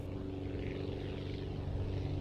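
A propeller aircraft engine in the Aviassembly flight game, on a small cargo plane called The Bee, holds a steady, droning hum at an even, fairly loud level with no pauses.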